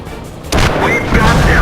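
The cannon of a Pz. 38H tank in World of Tanks fires once with a sudden loud boom that rolls into a rumbling, ringing tail, close and heavy.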